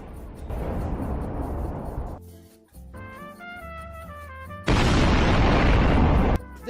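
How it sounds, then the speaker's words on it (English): An explosion sound effect: two loud, deep, broadband blasts with a rumbling tail, the first at the start and the second near the end, separated by a short tonal musical passage. "I need an explosion sound effect"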